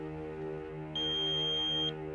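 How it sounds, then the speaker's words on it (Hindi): An answering machine sounds a single steady electronic beep, about a second long, over a faint background hum, signalling the start of a recorded message. "प्लीज बीप के बाद अपना मैसेज छोड़ दें"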